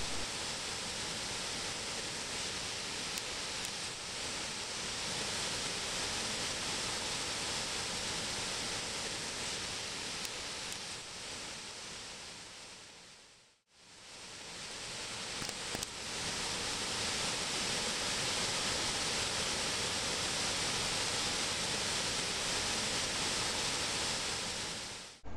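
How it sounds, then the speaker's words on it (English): The 30-foot cascading Great Falls at Rock Island State Park, beside an old cotton mill, pours as a steady, broad roar of rushing water, briefly cut to silence midway before resuming at full strength. "The Great Falls is located near the old cotton mill, a 30-foot cascading waterfall"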